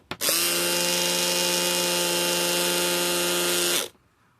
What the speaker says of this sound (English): So, clipper's working.